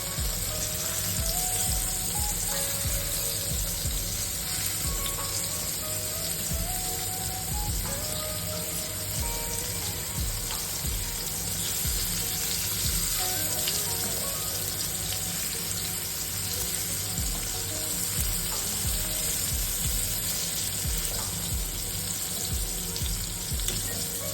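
Pomfret fish fries in a pan for Malvani-style fish fry, a steady dense sizzle running throughout with occasional scraping as the pieces are turned, close and continuous with no talking.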